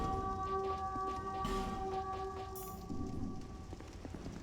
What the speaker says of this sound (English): I also just realized the rain is still playing.